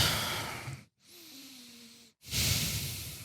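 A man breathes heavily and close to the microphone, with a loud, airy rush of breath, a quiet pause, then another strong breath that fades out.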